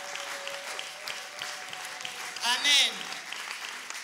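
A congregation at a church brunch gathering applauds to acclaim God, with clapping and cheering throughout, a shrill rising cry or ululation near the middle, and voices talking over it.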